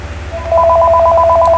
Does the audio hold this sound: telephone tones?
yes